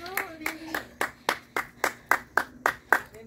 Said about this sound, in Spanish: bravo, démosle un aplauso a Giovanni, a Norita